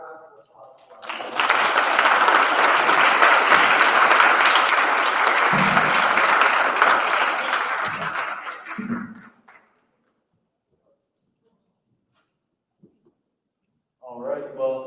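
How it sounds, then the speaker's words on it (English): Audience applause at a university law review symposium on free speech: a hard onset of dense, steady clapping that lasts about eight seconds, then fades and stops, followed by silence before a voice begins speaking. "Give a really good round of applause."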